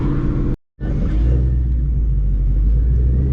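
A 700-horsepower Ford Mustang engine rumbles low and steady on a backroad drive, loud and close. A brief dropout near the start cuts it for a moment before the same deep drone resumes without talk.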